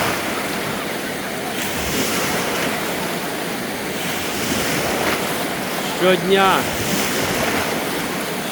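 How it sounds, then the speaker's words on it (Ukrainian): Artificial waves churn steadily in a wave pool at the Zsóry thermal complex in Mezőkövesd, Hungary, a continuous wash of water with wind noise, while a voice speaks briefly and a short burst of splashing or chatter rises near the end. "такий басейн з хвилями знаходиться в Угорщині"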